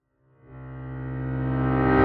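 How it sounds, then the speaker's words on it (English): A reversed, harmonically rich tone swells steadily from silence to a loud peak, building upward like a sucked-in riser with no other sounds. "And that's a reverse riser."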